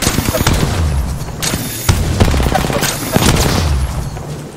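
Shotgun blasts in the video game Apex Legends, three heavy, booming shots about 1.3 seconds apart amid a busy, constant wash of other game noise.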